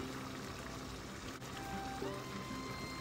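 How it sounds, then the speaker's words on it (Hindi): Yogurt goes into a pot of mutton karahi with a soft, continuous pouring wash that stays faint and even over a steady background hiss. "अब मैं ये इसमें दही डाल दूंगी"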